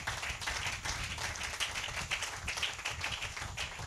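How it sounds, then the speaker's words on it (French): Congregation clapping during a church service, a soft, steady patter of many hands heard at a distance, fairly quiet, with no talking over it. "Donnez une main d'acclamation"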